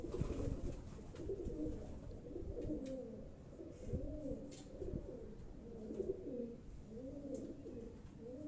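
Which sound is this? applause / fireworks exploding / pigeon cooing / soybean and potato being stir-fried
pigeon cooing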